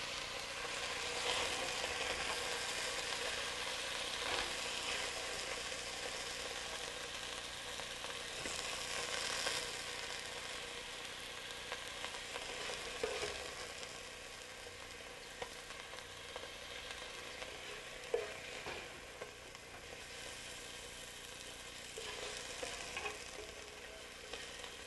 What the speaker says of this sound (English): It's browned a little bit on each of the pieces.